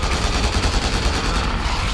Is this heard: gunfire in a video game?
yes